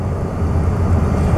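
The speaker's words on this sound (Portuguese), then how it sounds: "eu estou aqui no banheiro da aeronave" Inside the lavatory of an Airbus A330 in flight on an Azul route from Campinas to Belo Horizonte, a constant low cabin drone hums evenly and closely, with no voices over it.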